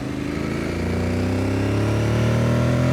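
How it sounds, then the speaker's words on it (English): An Aprilia motorcycle of about 80 horsepower rides along bumpy country roads in England and Wales, its engine droning loud and close and rising gradually in pitch as it accelerates, with no talking. "I can really totally see why I'm on the perfect bike for this kind of riding."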